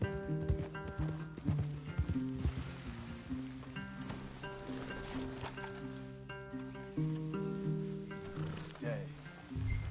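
Horses' hooves clop in an uneven rhythm at moderate distance, mixed with tonal music and brief voices, as riders halt among trees.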